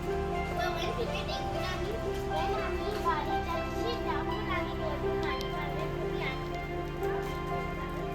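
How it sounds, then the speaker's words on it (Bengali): Rain falls steadily outside on a rainy day in Tokyo, a constant wash heard beneath children's voices and adult talk throughout. "বৃষ্টি পড়ছে"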